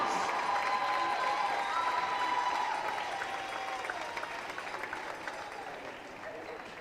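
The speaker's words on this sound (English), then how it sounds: "let's have one big final round of applause for both of our 2023-24 girls basketball seniors and their families" Crowd applause in a school gym honoring the 2023-24 girls basketball seniors and their families on senior night, steady and moderately loud, tapering slightly toward the end with a few voices and shouts mixed in.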